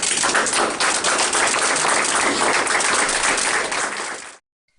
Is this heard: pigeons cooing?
no